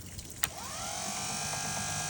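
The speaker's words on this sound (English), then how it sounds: "the problem here is the starting gear is spinning" A starter gear on the old outboard motor of a pontoon boat spins with a steady electric whir that rises and holds, following a brief click at the start, heard close up with no talking.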